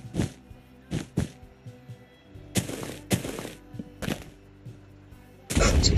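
TNT blocks exploding in Minecraft during a Bed Wars match, a string of sharp booming blasts spaced irregularly, with a louder, longer explosion at the end.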